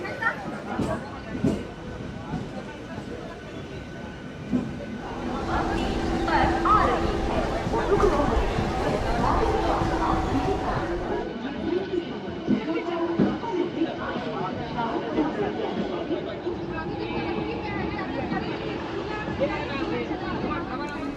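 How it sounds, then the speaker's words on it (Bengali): A local train leaving Howrah station and running along the line, its low rumble and rattle carrying under passenger chatter and babble inside the carriage. "অন টাইমেই আমাদের ট্রেন হাওড়া 3 নম্বর প্ল্যাটফর্ম ছেড়ে রওনা দিল"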